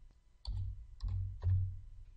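Three crisp computer mouse clicks, spaced roughly half a second apart and heard close up in a quiet room.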